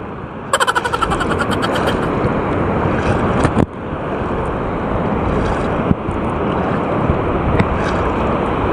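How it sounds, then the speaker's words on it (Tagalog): Steady roar of rough sea and surf with wind buffeting the microphone, continuous throughout, with a few brief knocks. "Talagang malakas ang dagat guys."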